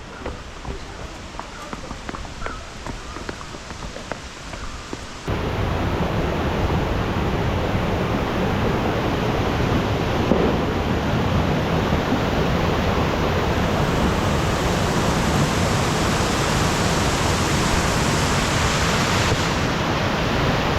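Babaragal Kanda waterfall roars as a dense, constant broadband rush of falling water, loud and close, taking over abruptly after a few seconds of quieter ambience with voices talking.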